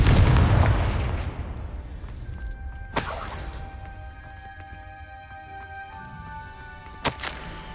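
A Confringo blasting spell goes off in Hogwarts Legacy, a loud booming burst that decays slowly, followed by two sharper cracking impacts a few seconds apart, with no talk over it.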